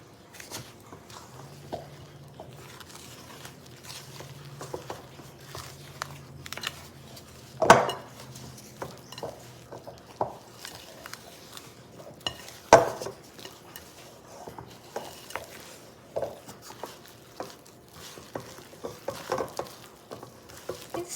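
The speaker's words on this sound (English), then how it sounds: "Keep stirring." A spoon stirs thick banana bread batter in a bowl with soft, steady scraping and occasional sharp clinks against the side, close and fairly quiet throughout.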